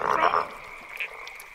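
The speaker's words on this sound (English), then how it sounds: "a couple of frogs that lived in the Angus River" Croaking from a couple of frogs living along the Angus River, a loud burst of overlapping croaks up front that fades to a thinner, quieter tone, with no talking.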